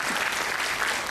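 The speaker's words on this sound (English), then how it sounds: "Would you just give a round of applause to these excellent panelists" An audience claps steadily, a dense, even wash of applause that fills the whole moment.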